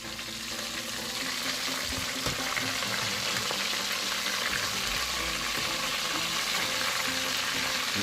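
Chicken wings fry in hot oil with a steady, dense crackling sizzle that holds at an even level throughout, close by and alone.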